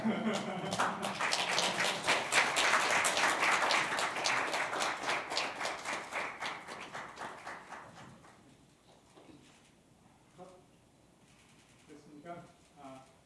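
Small group of lawmakers and attendees clapping at a National Assembly forum, brisk rhythmic applause that fades out after about eight seconds, followed by quieter room sounds and brief talk.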